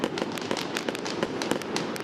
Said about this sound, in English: They can celebrate and set off some fireworks.